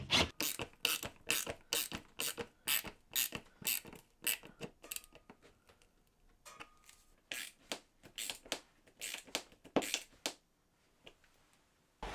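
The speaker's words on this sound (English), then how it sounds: "Then I can wind in all these brass screws fully." Brass screws driven by hand into a wooden chisel rack, giving a quick run of rhythmic ratcheting clicks and creaks, then a pause before a second, more scattered burst of turns.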